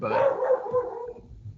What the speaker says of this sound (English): my bad if you guys can hear my dog barking